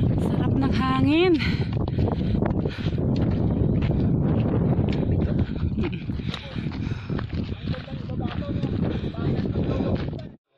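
Constant wind buffets the microphone in a dense rumbling roar, with voices talking through it and a brief rising whistle-like tone early on.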